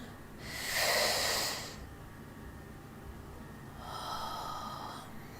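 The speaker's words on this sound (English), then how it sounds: "take nice deep breaths as this is happening. 3, 2, 1. Breathe in." Slow, deep breaths drawn during a guided meditation: two soft, airy inhalations a few seconds apart, close and fairly quiet, with no talking.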